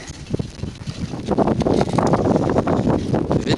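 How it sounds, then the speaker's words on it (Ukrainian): Wind buffets a rider travelling into a headwind through open countryside near a Ukrainian village, a steady, rough rushing that swells and gusts with no voices. "Я буду зараз їхати проти вітру"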